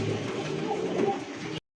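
Domestic pigeons cooing in a loft, a steady close, soft murmuring coo that runs continuously and then cuts off abruptly.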